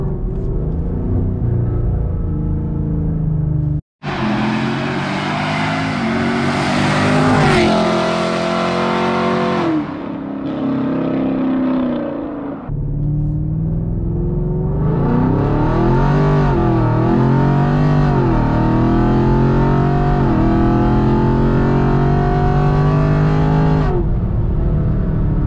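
A modded 550 hp Camaro with full bolt-ons running E85 roars past in loud flybys, its engine revving hard and rising in pitch, dropping out briefly, then surging again in a sustained, close, aggressive pull.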